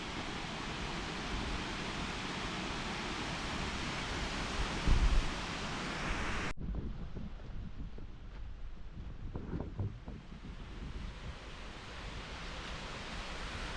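A river flows steadily with a continuous broadband rush, near and fairly loud. The sound softens noticeably partway through, as if muffled, then carries on without any voices.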